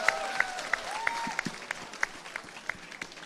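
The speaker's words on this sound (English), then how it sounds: "Give yourself a huge round of applause" Scattered clapping from a seminar audience, fairly quiet and thin, with distinct individual claps standing out over a soft background murmur and some faint voice-like tones.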